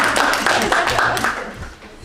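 Short burst of hand clapping at a school board of education meeting, a few close, uneven claps fading out within about two seconds, with voices in the room.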